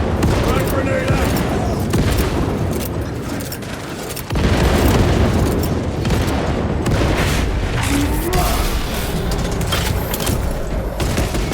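A frag grenade detonates in Warhammer 40,000: Space Marine 2, a loud boom amid dense, continuous battle noise of gunfire and blasts, with a sharp burst around the middle and voices mixed in.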